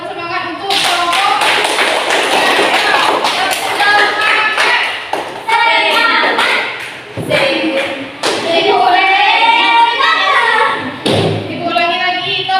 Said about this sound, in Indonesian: Kita beri dulu semangat, tepuk semangat untuk kelompok.